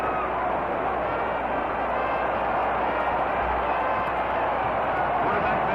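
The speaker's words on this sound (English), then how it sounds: "The crowd is going crazy." A packed football stadium crowd at the 1954 Grey Cup, Montreal against Edmonton, roars in a dense, unbroken wall of cheering, heard through a muffled, narrow-band old television broadcast.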